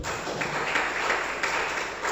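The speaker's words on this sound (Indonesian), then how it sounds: "Tepuk tangan buat Tuhan Yesus." A church congregation applauding during a sermon, a steady dense patter of many hands clapping at moderate level with no voices over it.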